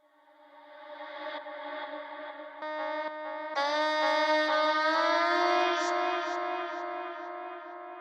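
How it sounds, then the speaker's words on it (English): A reverse-reverb sung vocal tone swells gradually, smeared with reverb that builds toward the note, in a layered, echoing wash with no speech, for a UK garage track. "The reverse reverb vocal is made from the same sample."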